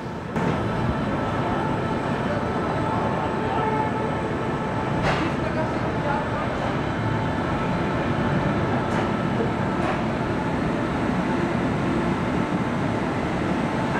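A Rajdhani Express rolls along the track while overtaking the Maruadi New Delhi Superfast Express, a steady loud rumble of moving rail cars heard from inside, with a few faint clanks and no clear talk.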